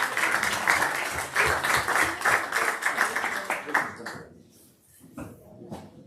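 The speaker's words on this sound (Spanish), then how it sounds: "Pues un aplauso." Applause from a gathered crowd at a public tribute event in Spain, steady and fairly close for about four seconds before thinning out to scattered claps and quiet murmuring.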